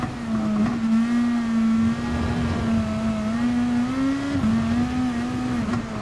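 A race car engine in Gran Turismo Sport, driven in the rain, drones loudly and steadily throughout, its pitch rising gently and dipping as the car shifts, with no talk over it.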